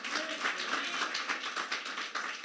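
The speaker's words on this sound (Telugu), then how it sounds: "గట్టిగా చప్పట్లు కొట్టి చెప్పండి" Church congregation clapping loudly and briskly, a dense stream of overlapping hand claps with a quick, uneven rhythm, close and continuous.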